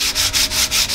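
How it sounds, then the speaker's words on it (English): Wet sandpaper rubs back and forth across the tiled top of a table, making loud, rhythmic scraping strokes about four times in a second, close up and alone. "We are sanding the table, and I'm using a wet sandpaper to remove marks off the tile that's on top."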